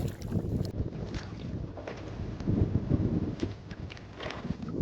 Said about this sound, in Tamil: சென்னையில் ஈசிஆரில் முட்டுக்காடு என்ற இடத்துல போட் ஹவுஸு, அங்கே தான் இப்போ நம்ம ட்ராவல் பண்ணிக்கிறோம்